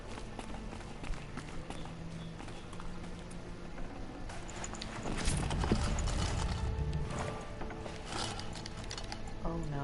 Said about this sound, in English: I keep hearing stuff and I'm like, is that my horse over here?